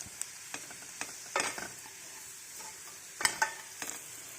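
Ground paste is stirred into oil frying with elephant foot yam: a low, steady sizzle broken by scattered scrapes and clinks of the spoon against the pan, close by and fairly quiet.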